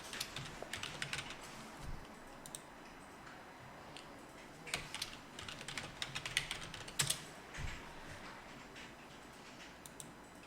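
Keys clatter on a computer keyboard as a web address is entered during an online channel setup, a quiet run of irregular taps with brief bursts and pauses, no talking.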